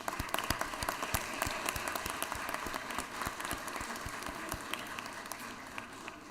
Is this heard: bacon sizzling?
no